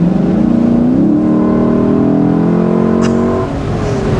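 A 2023 Lexus LC 500 convertible's engine revs loudly and steadily up close from inside the cabin, a deep rising drone with layered harmonics holding for several seconds before easing slightly near the end.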